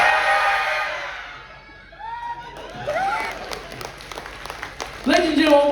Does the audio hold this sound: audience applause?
yes